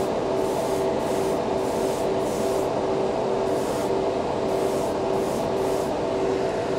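A Badger Xtreme Patriot airbrush sprays paint for model building, producing a steady, close airy hiss with a constant tonal hum that runs unbroken throughout.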